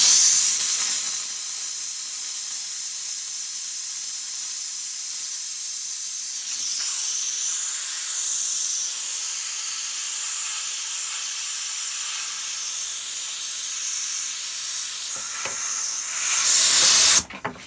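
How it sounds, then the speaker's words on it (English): Continuous hot steam hissing close by onto glue on an infill smoothing plane, a long steady jet that shifts slightly in tone and swells louder near the end. "Okay, let's attempt to remove this glue. I've got some hot steam."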